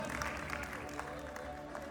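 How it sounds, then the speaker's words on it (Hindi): Quiet applause from the audience at an awards distribution ceremony for Gujarat cultural trusts, a faint steady patter of clapping heard at a distance with a low tonal hum beneath. "एक जोरदार तालियां।"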